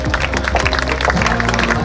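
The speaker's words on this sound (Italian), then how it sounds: "Un applauso al nostro corpo di ballo" Audience applause for a dance troupe at the Miss Venice Beach 2021 pageant stage in Piazza Aurora, Jesolo: dense, steady crowd clapping throughout, loud and close, with tonal sound running underneath.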